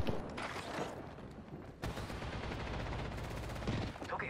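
Rapid automatic gunfire in the video game Apex Legends, dense bursts of shots continuing throughout, close and loud with a brief lull before a sustained stretch of firing.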